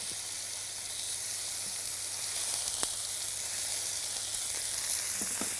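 Mullet fillets fry in a pan with lemon slices, giving a steady close sizzle and hiss with a few faint clicks, alone without talk.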